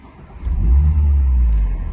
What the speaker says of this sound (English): press the starter one time, that gets the car to come into life